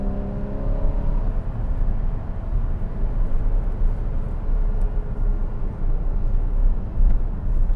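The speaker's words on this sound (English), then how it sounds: "We'll go ahead and go through some of these turns going through the gears here" A 2014 Porsche Cayman engine roars steadily from inside the car through turns and gear changes, a loud continuous drone with low rumble and slight rising pitch sweeps, no talk over it.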